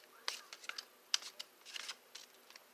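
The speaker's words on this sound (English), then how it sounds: "They glide really well when shuffling." Laminated Mystic Mondays tarot cards being shuffled, producing quiet, quick riffling and soft slapping bursts in an irregular rhythm, heard close and alone with no voices.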